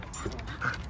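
Dogs arriving home make quick excited whimpers and yips close by, with soft panting and household movement around them.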